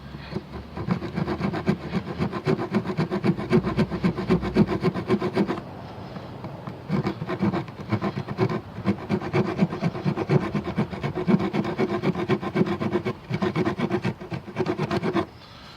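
The blade of an Ozark Trail multitool scrapes rapidly back and forth across wood to make sawdust, producing a close, rhythmic rasping that pauses briefly and then resumes in steady strokes.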